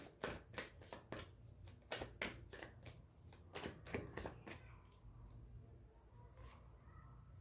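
Tarot cards shuffled and drawn by hand, giving a quick run of crisp riffling snaps and slides that ends in softer handling, close up with no talk.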